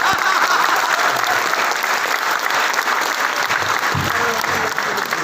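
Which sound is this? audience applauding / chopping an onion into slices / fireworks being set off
audience applauding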